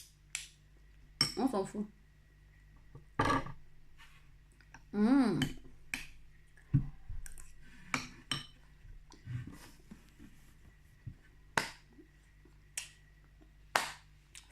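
A large serving spoon clinks against a pot and dishes while rice is served, giving a few sharp, scattered metallic taps close by, mixed with light handling noise and brief speech.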